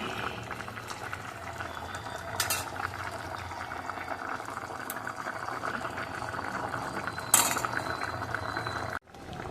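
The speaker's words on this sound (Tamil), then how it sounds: "இப்போ வந்து கொதிச்சிருச்சு." Okra (ladies finger) gravy bubbles in a pan on the stove. The boiling is steady and close, with a few clinks, and it ends in an abrupt cut near the end with no talking.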